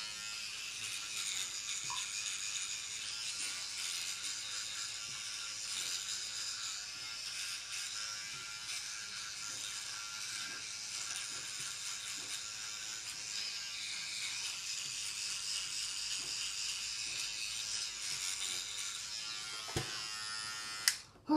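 A Spiderman electric toothbrush runs with a continuous high buzzing whir for about twenty seconds, close up, steady in level, ending with a brief clatter.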